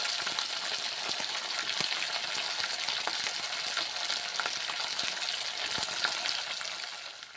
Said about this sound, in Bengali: কুমড়োগুলো ভেজে নিচ্ছি।